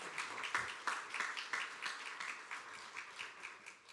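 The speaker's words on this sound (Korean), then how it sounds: "여러분 먼저 박수 한번 하겠습니다." Church congregation clapping together at a service, a steady run of soft, fairly distant claps with a loose rhythm that carries on throughout.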